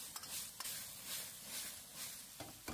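Cauliflower with green and red chili peppers stir-fried in a wok over high heat gives a soft, steady sizzle with scattered clinks and scrapes of the spatula against the metal.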